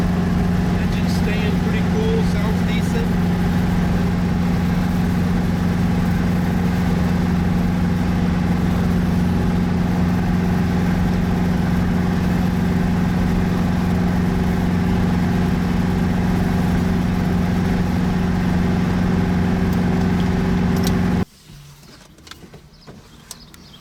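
A 1965 Ford Mustang engine idles steadily with a low, even hum for most of the clip, then cuts off abruptly near the end.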